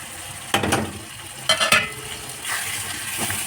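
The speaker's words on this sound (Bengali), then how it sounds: "হালকা একটু পানি দিয়ে এটা কষাতে থাকবো" Spices frying in a pan for tengra fish curry, with bursts of stirring scrapes over a steady close sizzle and no voices.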